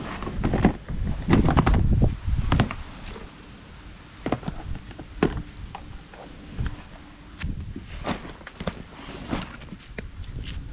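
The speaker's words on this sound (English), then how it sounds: "Whoa, it's so windy." Strong wind buffets a boat, rumbling steadily at fairly high level with repeated knocks and thumps from gear and movement aboard, with no talking.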